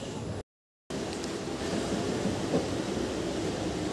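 A Bandel-Naihati local train running, with a steady rumbling roar and wind noise throughout and a brief dropout near the start.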